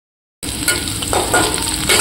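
Onions drop into a wok of oil left over from frying pointed gourd. After a moment of silence, a bright frying sizzle starts and keeps going, with stirring noises and no voices.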